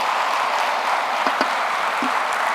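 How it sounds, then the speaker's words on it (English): Steady applause from a conference audience, sustained and even throughout, with a few sharper claps standing out. "Please, a big round of applause to Gopi, please."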